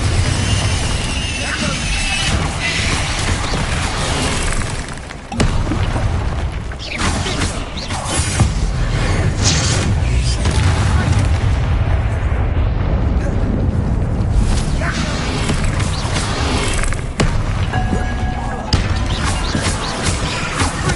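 Continuous blasting spell explosions and rumbling booms from a wizard video game, loud and dense throughout with a brief dip near five seconds, over a busy game background with occasional voice.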